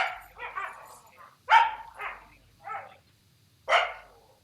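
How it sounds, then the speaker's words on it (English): Several dogs bark loudly in short bursts, a few sharp yelps spaced across a few seconds at close range, with a quieter whimpering bark between them. "My dogs are super loud."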